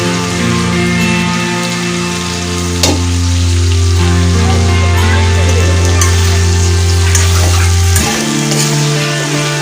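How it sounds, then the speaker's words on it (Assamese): Banana stem frying with potatoes in oil in a wok, a loud, dense, continuous sizzle like heavy rain, with occasional stirring clatter and no voices. "পচলাখিনি যিহেতু ভাজি যাব"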